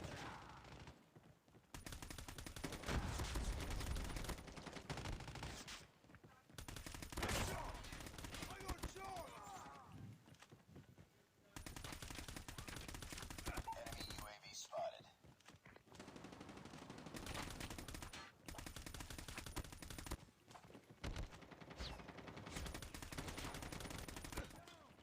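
Sustained bursts of M4 rifle fire in the Call of Duty video game, long rattling automatic volleys broken by short gaps, steady and fairly loud, with game effects mixed in throughout.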